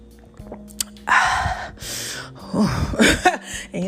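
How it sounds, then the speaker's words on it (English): Water being sipped and swallowed close by, with a few soft wet slurps and gulps in short bursts between quiet pauses, no talking. "Let me sip on some of this water."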